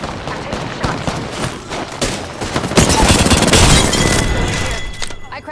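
Dense video-game gunfire in a competitive trios match, rapid overlapping shots and booms building to a loud sustained barrage in the middle, close and continuous with a few voice fragments mixed in.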